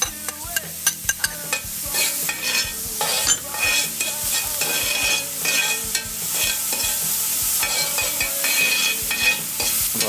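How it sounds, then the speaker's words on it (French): Garlic and small mushrooms sauté in a pan, a steady crackling sizzle with frequent stirring scrapes and clicks, close and continuous with no talk. "je vais juste faire rissoler l'ail et tout de suite des petits champignons"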